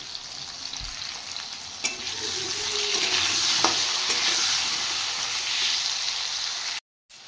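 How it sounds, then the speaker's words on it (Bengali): Potatoes frying in oil in a pan with salt and turmeric, a loud, continuous close sizzle with a few stirring clicks and scrapes, ending in an abrupt cut. "নুন হলুদ দিয়ে আলুগুলো একটু লাল করে ভেজে নেব।"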